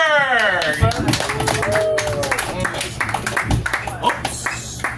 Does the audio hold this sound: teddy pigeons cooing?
no